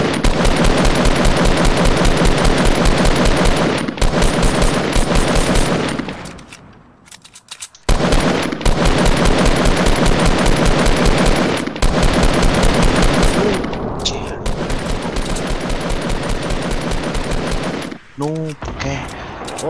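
Long, rapid bursts of automatic gunfire in Fortnite Battle Royale, loud and close, with a couple of short gaps and a faint voice near the end.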